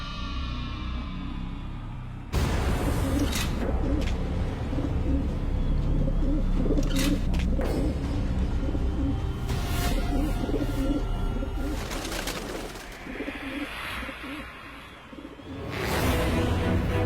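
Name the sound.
birds released into flight, cooing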